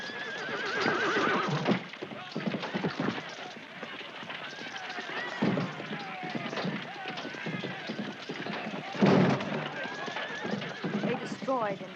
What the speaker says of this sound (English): there came warriors on horseback who attacked and overcame our defenses